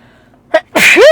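A single person's sneeze bursts out sharp and close, a brief inhale catch followed by the explosive release, in an otherwise quiet indoor setting.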